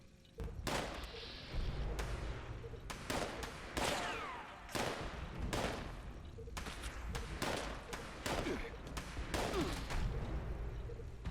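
Heavy explosions and gunfire from a Hack and Slash legendary melee weapon in the Fallout 76 video game, a dense run of sharp, loud booming bursts repeating every second or so across the whole stretch, with no talking.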